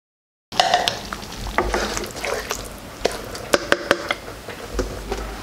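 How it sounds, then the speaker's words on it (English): Corn soup with thyme and garlic is stirred in a pot as it comes to a boil and thickens, giving sharp scraping clicks and knocks of the spoon over a soft bubbling sizzle, close and without talk. "I'll bring to a boil and continue to stir until it thickens"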